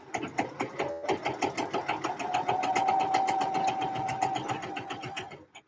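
A sewing machine stitches a trouser seam within the seam allowance, its needle chattering in a fast, steady rhythm that runs close and clear for several seconds before stopping.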